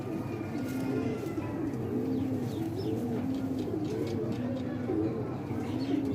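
Fancy Jethiye pigeons with black beaks keep up a continuous low, throaty cooing close by, the rolling phrases repeating every second or so over a steady background hum.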